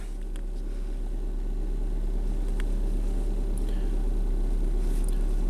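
A car engine idles steadily after start-up with a constant low rumble and hum. Faint clicks occur now and then, and no one speaks.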